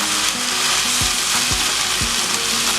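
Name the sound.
tomato and tomato paste frying and being stirred in pan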